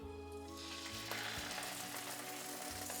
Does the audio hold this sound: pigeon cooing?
no